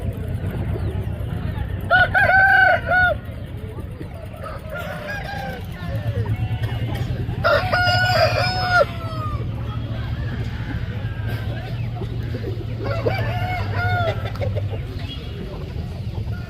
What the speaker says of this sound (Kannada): ನೋಡಿ, ಅಲ್ಲೇ ಒಂದು ಹುಂಜ ಇದೆ.